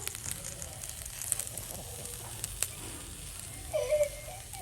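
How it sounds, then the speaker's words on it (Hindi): A roti chicken wrap grills in a pan with a soft, steady sizzle, a few brief crackles, and a louder hiss near the end. "इस तरह हल्का सा हमने इसको ग्रिल करना है।"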